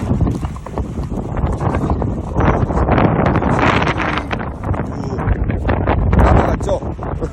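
Strong, gusty wind batters a private campsite with a tent shelter, producing a loud, steady roar with heavy buffeting that swells and surges throughout.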